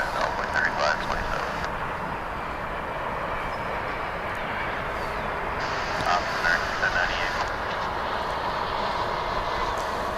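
A jet aircraft at DFW Airport rumbles steadily in a continuous broadband roar, fairly distant and sustained throughout, with faint voices in the background.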